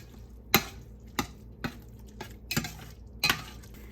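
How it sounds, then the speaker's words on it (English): A spoon stirs spices into coconut masoor dahl in a pot, giving sharp scraping clacks against the pot's side at irregular intervals, close and fairly loud, with quiet pauses between strokes. "I'm going to stop there and give this a mix"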